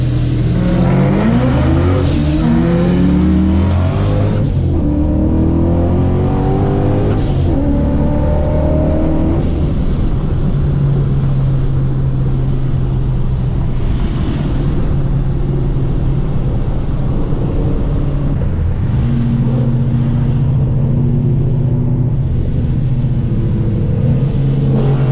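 Street race in Mexico with a lineup of imports including a Golf and a G35, engines roaring loudly and close, with repeated surging revs and gear changes layered over a constant rumble.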